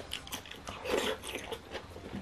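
Dumplings with garlic being eaten up close, crisp bites followed by wet chewing and soft crunches in a quick, irregular rhythm, no talking.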